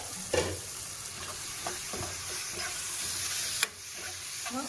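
Chicken masala sizzles and bubbles in oil in a pan, a steady soft frying hiss with occasional scrapes and clinks of stirring, close and moderately quiet with no voices.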